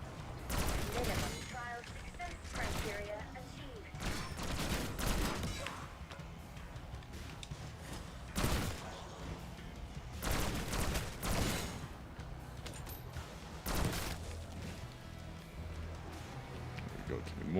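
Gunfire in Call of Duty Zombies, repeated bursts and volleys of shots through most of the stretch, mixed with game effects and someone talking over the action.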